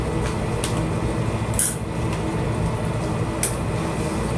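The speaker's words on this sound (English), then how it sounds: "Now the CO2 is coming into the tank, into the arterial line filter, out the inlet, down the bridge" CO2 gas hisses steadily as it flows into the tank of a heart-lung perfusion circuit being primed, a soft continuous airy rush with two brief sharper spurts.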